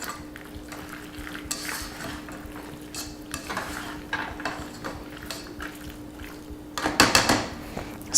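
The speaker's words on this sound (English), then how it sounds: "So now take the fettuccine and toss it in with the sauce. Get it all coated" Fettuccine tossed and stirred through a Cajun shrimp Alfredo sauce in a pan produces repeated wet scraping and utensil clinks over a steady low hum, building into a busier flurry of stirring toward the end.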